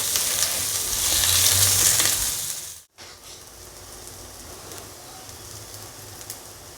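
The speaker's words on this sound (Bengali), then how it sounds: "আর তার মধ্যে দিয়ে দেব দুটো কাঁচা লঙ্কা। এগুলোও আমি লাল লাল করে ভেজে নেব।" Two green chillies sizzle and crackle in hot oil for a Bengali prawn bhorta, a loud, steady close-up fry that cuts out briefly near the middle and then carries on more softly.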